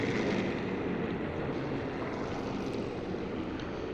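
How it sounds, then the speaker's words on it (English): Aircraft engine droning steadily in the video game Sniper 4, a dense, continuous low rumble with no breaks, fairly loud and unaccompanied by speech. "Aircraft is still covering our shots from this point"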